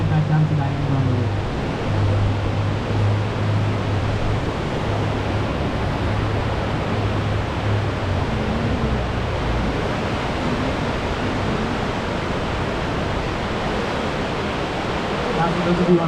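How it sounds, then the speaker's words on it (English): Rushing water of the Niagara River whirlpool, a loud, continuous roar and hiss of churning current filling the whole stretch, with a faint low hum beneath at times. "you guys are looking at the whirlpool vortex"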